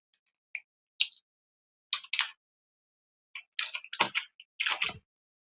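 Scattered keystrokes tap out a prompt on a computer keyboard, arriving as short isolated clicks and then quicker clustered bursts, close and fairly quiet, with no voices.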